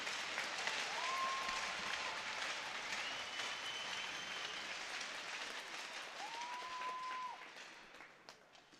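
A hockey arena crowd at a varsity game applauds steadily for about seven seconds, a dense, even roar of clapping that thins out and fades near the end.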